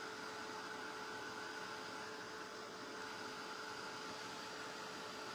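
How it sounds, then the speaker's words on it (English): A heat gun blows hot air while drying paint dots on a hat, producing a loud, steady, even whirring hiss with a faint tonal whine that holds constant throughout. "And this is a heat gun. I mean, so it gets way hotter than the hair dryer anyway."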